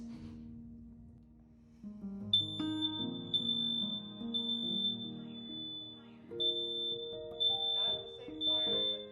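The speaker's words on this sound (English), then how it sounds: "press this button right here. It's to reset the fire alarm system so it all syncs together" A household smoke detector sounds after its reset button is pressed, giving a series of loud, high, repeated beeps in bursts over several seconds, with a voice talking beneath and between them.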